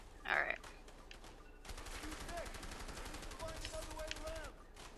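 Gunfire from the co-op video game A Way Out comes as a sharp burst near the start, then a steady rattle of rapid shots runs under the game's other sounds to the end.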